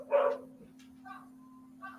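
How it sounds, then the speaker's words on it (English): A dog gives a single sharp bark close by, followed by a couple of softer yips over a steady electrical hum, with no talking. "That your dog barking?"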